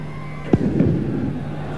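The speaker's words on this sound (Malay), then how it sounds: "Dengarlah bunyi mercun di Stadium Perak ini." At Stadium Perak in Ipoh, during a 2003 Malaysian league football celebration, a single sharp firecracker bang cracks out, followed by a lingering rumbling echo over a steady background din.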